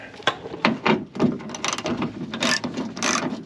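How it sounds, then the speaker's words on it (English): A 7/16 socket ratchet loosens the window guide rod nut inside the door of a Fox Body car, giving rapid clicking pawl bursts with brief pauses between them, close and fairly loud. "I'm going to take a 7/16 socket"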